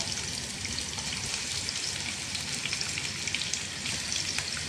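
Two sliced onions frying in a pan for liver fry, a dense, even crackling sizzle like rain, steady and close with no voices.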